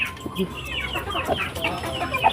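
Chickens being fed in a rural yard cluck and chatter repeatedly, close by, with soft background noise.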